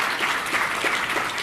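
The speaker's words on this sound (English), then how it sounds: "Again, another round of applause." Audience applause fills a hall at a pharmaceutical industry event in Toronto, a dense, steady wash of many hands clapping at moderate loudness with no talk over it.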